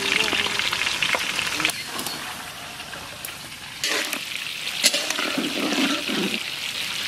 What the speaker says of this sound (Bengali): ফুলকপিটা সুন্দর করে ভেজে নেব।